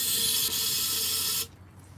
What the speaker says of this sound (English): So as I spray down to the port, you'll see it